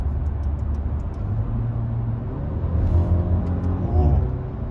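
Low, throaty exhaust rumble from a Maserati Ghibli mild hybrid with variable exhaust in sport mode, steady with a couple of brief swells as the revs rise, heard from close by.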